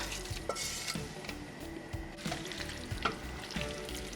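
Carrot, bell pepper and onion borscht dressing with beet and tomato juice is stirred in a pan, a quiet sizzle punctuated by repeated clinks and scrapes of the spoon.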